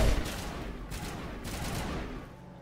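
Gunfire in the Mass Effect Legendary Edition game, a dense, continuous burst of shots that fills the short span, loud and steady with no voices over it.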